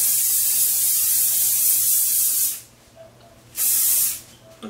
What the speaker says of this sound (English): I always use a Sebastian shaper. And I'm going to spray it a little bit.